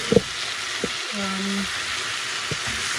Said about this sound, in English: Now I've added my saltfish, my deboned saltfish, semi-deboned saltfish